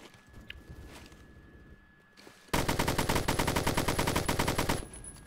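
Rapid automatic gunfire from a gun in the video game Phantom Forces, a quiet stretch of faint game noise giving way to a loud, sustained burst of evenly spaced shots lasting a couple of seconds.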